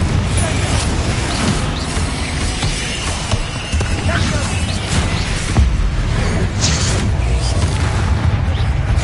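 Confringo blasting-spell explosions boom continuously in the Hogwarts Legacy video game on PS5, layered with crashes and battle noise while a voice shouts spell names over the din.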